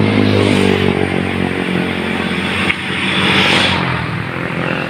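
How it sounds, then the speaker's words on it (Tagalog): A motorcycle engine drones loudly and steadily on a caravan ride through Pangasinan province, a rough, strained hum that holds close throughout with a brief dip partway. "Oh, yan po ang aking gamit na motor"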